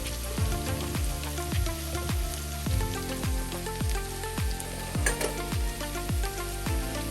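Carrots frying in a pot on medium heat for Jamaican escovitch: a steady, close sizzle with a fast crackle, accompanied by a regular series of resonant tonal hits, and no talking.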